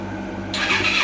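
A petrol engine on a homemade go-kart built from a Power Wheels toy being pulled over for a start, with a short, close burst of rough mechanical cranking that swells suddenly and does not settle into running.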